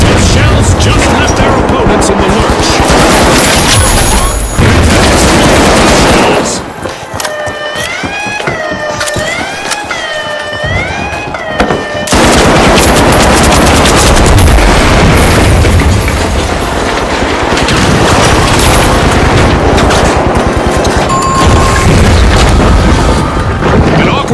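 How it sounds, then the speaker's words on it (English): Grenade explosions and gunfire pound away in THE FINALS, with loud, continuous booms and crackling shots filling most of the stretch. A brief quieter gap carries a wavering siren-like tone, and voices speak in places. "Grenade out."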